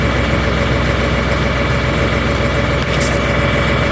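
An LS XR3135 compact tractor engine idles steadily after being restarted, a constant loud diesel rumble with no change in pace.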